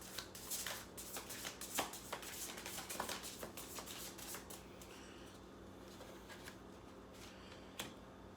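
Tarot cards are shuffled by hand in a quiet room, a series of soft riffling bursts and flicks that come in irregular clusters before tapering to a few isolated snaps.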